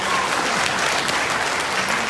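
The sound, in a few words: audience applause for the speaker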